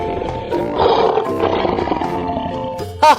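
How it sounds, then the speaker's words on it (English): A lion roars in a deep, rumbling growl, loud and close, layered over background music and ending with a brief sharp effect. "lion"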